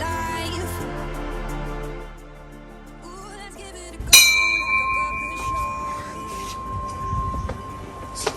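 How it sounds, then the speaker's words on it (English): A traditional calling bell at a house in Munnar strikes once loudly with a bright metallic ring that lingers and fades slowly, after a stretch of quieter background sound. "This is a calling bell,"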